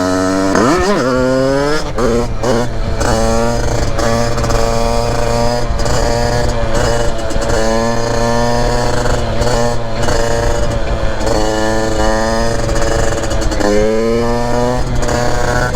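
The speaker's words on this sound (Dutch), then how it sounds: "Dit is een Derby Zenda en laten we een paar wheelies doen." A Derbi Senda 80cc motorcycle with a Malossi MHR setup revs hard during wheelies. The two-stroke engine screams loud and close with rising and falling pitch sweeps throughout, and no voices come through.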